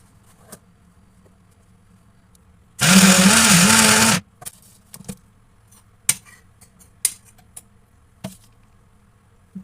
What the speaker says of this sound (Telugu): ఇంకొంచెంసేపు మిక్సీ వేసామంటే పేస్ట్ లాగా అవుతుంది.